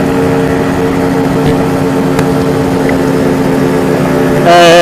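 A Casa Performance Sledgehammer 333 scooter engine runs at a steady, loud drone, then the pitch jumps sharply in a quick rev near the end.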